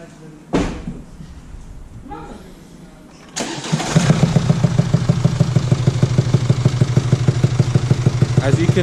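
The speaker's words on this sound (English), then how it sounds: "there's a very bad knocking noise coming from the engine" A Mercedes E220d with a 2.0 diesel engine cranks and starts after a few faint knocks, then settles into a loud, steady idle with a rapid, evenly repeating knocking tick running throughout.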